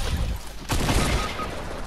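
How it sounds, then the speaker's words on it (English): A harpoon gun fires in a frantic multiplayer shooter, one sharp broadband burst cutting in abruptly mid-clip and sustaining as a dense rush of noise over the game's background sound, with no talk. "Harpoon gun."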